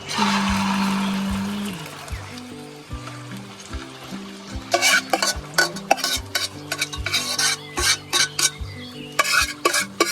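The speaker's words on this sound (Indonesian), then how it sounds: "setelah minyaknya panas kita masukkan telurnya ya" An egg sizzles loudly frying in hot oil outdoors while a utensil scrapes and stirs against the pan, close up and steady.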